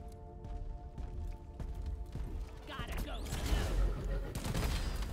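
Gunfire in Deep Rock Galactic: single shots and short bursts against a mechanical hum, building into louder, denser firing and impacts toward the end, with a voice talking over it.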